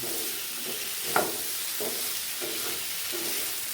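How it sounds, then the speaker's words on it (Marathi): Chana dal and pumpkin curry being stirred in a hot pan, a steady close sizzle with several distinct scraping strokes of the spoon against the pan. "याला पण छान मिक्स करून घेऊया"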